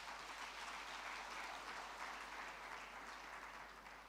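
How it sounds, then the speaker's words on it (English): Audience applause at a procurement certification convocation, a steady dense clapping from a large crowd that holds for about four seconds, then begins to fade near the end. "I think he deserves a big round of applause."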